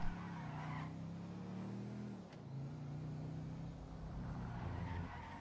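Car in GTA Online revving and accelerating with shifting engine pitch, a tire skid midway, then the engine climbing again; moderately loud and continuous, with no talking.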